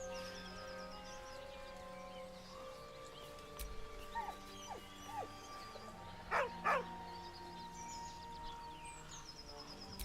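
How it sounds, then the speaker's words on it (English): A dog in the Baldur's Gate 3 video game whines in heartbreak, soft whimpers and yips with two sharper cries near the end over quiet ambient music. "With a deep, heartbroken whine, the dog bows his head."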